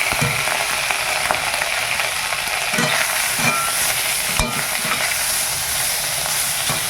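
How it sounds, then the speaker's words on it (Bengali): Tengra and lotkol fish, heads removed, fry in a wok over a clay stove with a steady loud sizzle, broken by a few soft scraping and clinking touches of a spatula, no voices. "উনানে কড়াটা বসিয়ে দিয়েছি, ওই এবারে মাছটা ভেজে নিই।"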